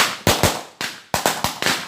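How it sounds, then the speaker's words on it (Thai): Firecrackers set off at an end-of-Buddhist-Lent festival burst in about seven sharp, loud, close bangs in quick irregular succession, with no talking. "จูด ให้มันมีเสียงปงปังปงปังรับเอาโชคเอาใช่นะพี่น้องเนาะ"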